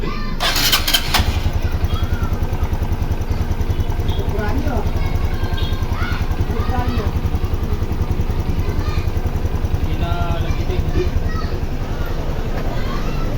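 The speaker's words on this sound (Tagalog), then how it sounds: "Ito na po yung tunog ng kanyang makina" An RS125 FI motorcycle engine, freshly repaired with replaced parts, idles close by with a steady, even putter after a short burst of revving at the start; a voice speaks over it.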